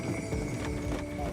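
Hooves of carriage horses clip-clop steadily on a farm property where horse-drawn sleigh and carriage rides are run, a continuous rhythmic clatter mixed with a dense background wash, close and without talk.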